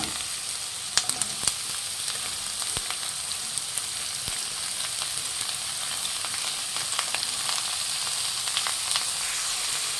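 Shredded cabbage sizzles steadily in a pan of golden-fried onions for a Kannada cabbage palya, a constant bright frying hiss with occasional sharp pops and clicks throughout.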